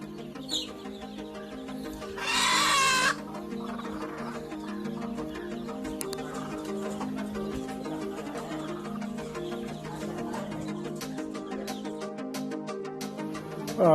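A brooding country hen, a native free-range bird sitting on eggs, clucks in soft repeated low calls that carry steadily through the whole stretch, with one louder, higher burst near the start.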